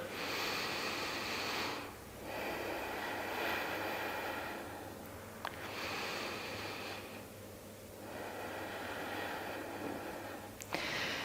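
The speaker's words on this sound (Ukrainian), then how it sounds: "Робимо вдих. І видих." Deep, slow breaths in and out during an abdominal exercise session, long airy rushes alternating in a steady rhythm over about eleven seconds, close to the microphone and without speech.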